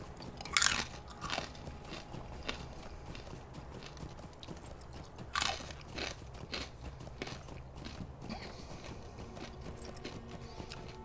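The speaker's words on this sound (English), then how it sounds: "The corn nuts keep the crunch for longer." Loud, close crunching and chewing of barbecued corn nuts and hot sauce chicharrones, with a couple of sharp bites standing out among steady munching.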